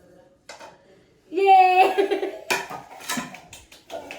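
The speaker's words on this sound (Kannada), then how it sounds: "ಇನ್ನೊಂದು ಪ್ಲೇಟ್ ಅಲ್ಲಿ ಹಾಕೊಂಡು ಉಲ್ಟಾ ಮಾಡ್ತೀನಿ" A freshly baked, still-warm sponge cake flipped onto another plate, with clinking and clattering of dishes under a voice, a short close sequence of plate knocks.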